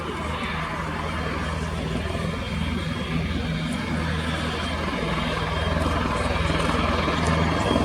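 A pair of Czech Air Force PZL-Swidnik W3A Sokol helicopters fly a display at RIAT 2025, giving a loud, steady rotor thrum and engine whine that builds slightly toward the end.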